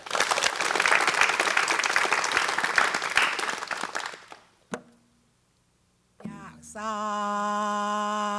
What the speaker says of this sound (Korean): 저희들 박수로 청하겠습니다